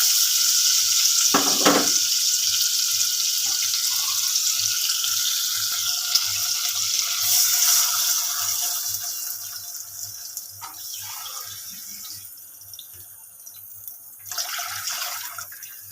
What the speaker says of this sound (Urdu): اس کو فرائی کرنے کے بعد جو ہے وہ ہم اس میں تقریباً 2 گلاس پانی شامل کر دیں گے